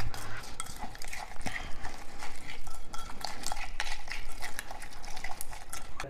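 A spoon stirs a lemon pickle mixture with fenugreek powder in a bowl, giving continuous scraping and clinking with close, busy texture throughout.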